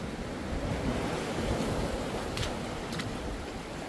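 Sea waves wash onto the shore at low tide along a forested coast at Cornwallis, Auckland, New Zealand, a steady broadband surf roar heard alone, with a little wind buffeting the microphone.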